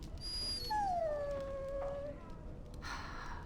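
A dog in the video game Dragon Age: Origins gives a long, drawn-out whimpering whine that rises and bends down, fairly clear over a low game ambience with no talking.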